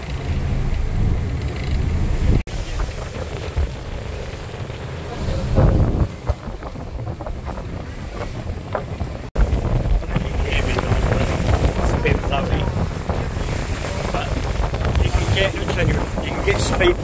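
Rumbling ferry engine churning on open water near Koh Larn, with heavy wind buffeting the microphone throughout.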